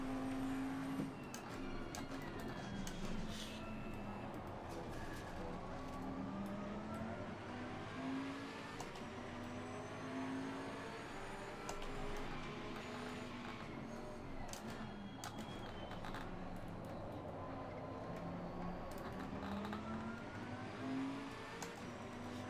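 A GT race car engine in Assetto Corsa Competizione drones and revs continuously, rising and falling through gear changes while chasing a Ferrari, loud and close throughout.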